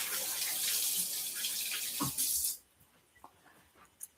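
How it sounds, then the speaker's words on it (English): A kitchen tap runs while hands are washed beneath it, a steady hiss of splashing water for a couple of seconds, then it stops and a few faint clicks and drips follow in the quiet. "And have washed my hands, and I'll wash again."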